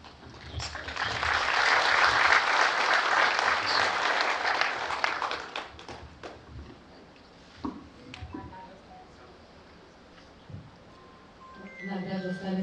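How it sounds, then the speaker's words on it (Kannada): Applause from the audience at the Graamaayana trailer launch swells quickly and holds loud for several seconds, then thins into scattered claps as speech and other stage sounds take over near the end. "ದಯವಿಟ್ಟು ಮತ್ತೊಮ್ಮೆ ಚಪ್ಪಾಳೆ"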